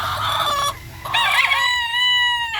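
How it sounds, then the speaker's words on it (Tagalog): Young roosters crow loudly and close by, the drawn-out call broken by short clucks, with another crow following right after. "Lalaking manok."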